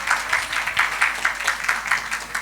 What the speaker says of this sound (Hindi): जोरदार तालियों के साथ करते हैं इस उत्सव की शानदार शुरुआत